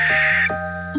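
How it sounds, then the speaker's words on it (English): A barn owl gives a loud, close, piercing shriek, repeated in two quick bursts, with no voices. "I think this one is a barn owl"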